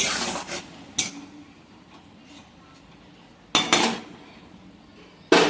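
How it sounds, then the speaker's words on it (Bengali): Metal lid set onto a cooking pan of steamed fish, landing as sharp metallic clanks and clinks: a cluster at the start, then two more separated by quiet, with no voices. "এবার আমি চাপা দিয়ে দেবো, আবার ঢাকাটা দিয়ে দেবো।"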